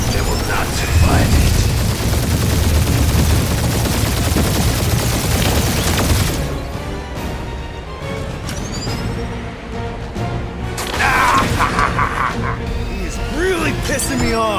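Sustained weapon-fire barrage in the Guardians of the Galaxy video game, dense bursts of shots and booms over the first six seconds, easing off and then flaring again near the end, mixed with background voices.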